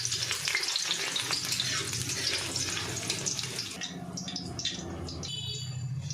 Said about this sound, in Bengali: কড়াইয়ে আরও কিছুটা সর্ষের তেল দিয়ে দিলাম, দিয়ে কটা রসুন ফোড়ন দিয়ে দিলাম কেটে রাখা